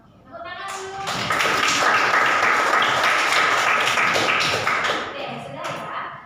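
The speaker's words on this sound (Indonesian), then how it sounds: "Tepuk tangan dulu." A classroom full of students breaks into applause, a dense burst of clapping that swells quickly, holds steady for several seconds, then fades out, with some voices mixed in.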